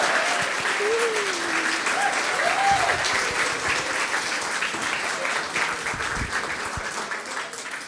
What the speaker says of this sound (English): So I think we deserve a second round of applause.